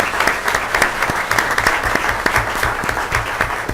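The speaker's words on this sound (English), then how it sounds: "So please give these lovely individuals another round of applause." Audience applause at a school board of education meeting: a steady round of clapping from a modest crowd, close and even, with individual sharp claps standing out and no voices over it.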